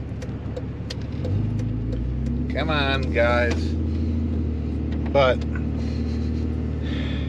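A Cummins diesel truck engine idling and then rising to a steady low rumble, close and continuous, with someone talking over it.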